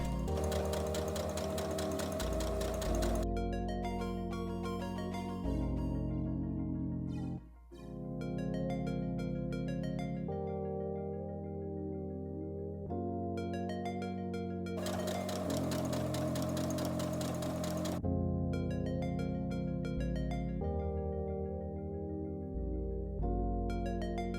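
A sewing machine stitches cuffs onto a fur-trimmed costume coat, running in long steady bursts with short pauses between them, close and loud with no talking.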